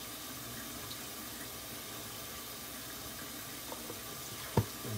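Tap running warm water into a sink, a steady soft hiss of flowing water at moderate distance, with a small clink near the end.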